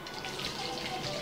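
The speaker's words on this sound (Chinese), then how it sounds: "加入清水，将大米淘洗干净" Rice is rinsed in water in a rice cooker's inner pot, with a faint, continuous swishing and trickling of water over the short moment.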